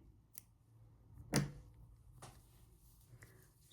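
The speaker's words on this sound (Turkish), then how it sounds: "ve fazla olanı kesiyorum." Scissors snip off excess yarn after hand embroidery on a baby cardigan, one crisp close cut standing out briefly in a quiet room, with faint small ticks around it.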